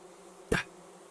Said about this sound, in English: it spawned a bunch of bigger bees than your normal workers, and they were just flying about the place